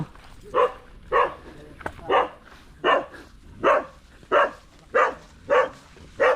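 An angry dog barks steadily at a wide fishpond, about nine evenly spaced single barks, loud and nearby, with no talking.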